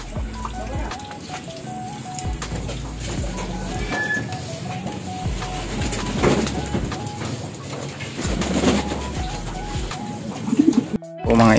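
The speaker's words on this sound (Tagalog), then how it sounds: "O mga ibon natin, naliligo mga yan." Racing pigeons coo in a loft as they bathe after training, repeated soft low coos overlapping throughout, with water splashing and a brief burst of movement near the end.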